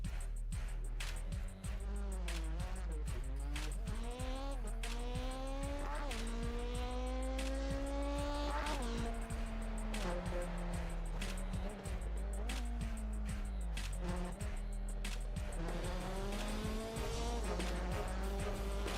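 Rallycross cars lapping in open practice at Knockhill, engines revving up and down through repeated gear changes, loud and continuous with tyre noise and no talking over it.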